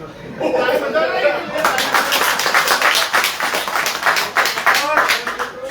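An audience clapping along in rhythm during a devotional kirtan in Jaipur, steady close handclaps mixed with crowd chatter and voices throughout.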